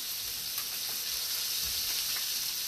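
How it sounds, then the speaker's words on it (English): Broccoli in a pot on the stove, a steady close hiss with faint bubbling and gurgling for a few seconds, no voices. "As you can see, it's boiling."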